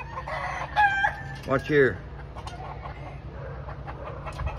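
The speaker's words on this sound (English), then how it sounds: "I want you to watch these chickens go up this ladder." Chickens make rooster-like crowing calls and clucks from a backyard flock climbing a ladder to roost in a tree at dusk, two loud calls early, then softer clucks over steady outdoor background noise, with a brief voice speaking.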